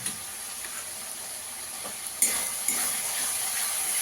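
Raisins tossed into masala sizzling in a pan for paneer pulao, a soft steady fry that jumps to a brighter, louder hiss as they hit the hot oil, without any talking.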